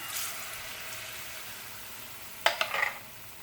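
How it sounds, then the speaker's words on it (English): Banana fritter batter dropped into hot oil, a low background hiss followed by a sudden sharp sizzle and crackle as the batter hits the pan, fading into bubbling frying. "Now I'm going to show you how I put it in the oil."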